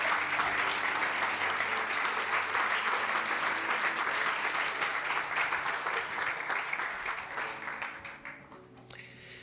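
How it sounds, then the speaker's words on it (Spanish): A church congregation breaks into sustained, dense applause filling the room, loud and even for most of the stretch before thinning and fading toward the end. "Denle un aplauso al Señor por eso, de agradecimiento."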